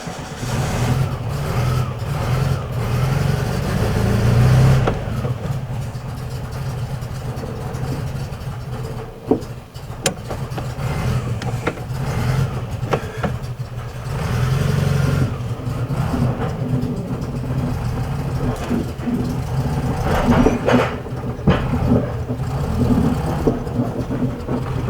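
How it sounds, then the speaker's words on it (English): An engine in a 1966 VW Beetle under restoration runs continuously, a steady, close, low rumbling idle with occasional rises and small knocks, and no talk over it. "It runs. I'm going to get it outside, and we're going to run it for a while here."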